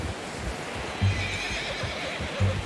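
A horse whinnies twice in Red Dead Redemption 2, loud and near, over a constant hiss of wind-like ambience, with no talking.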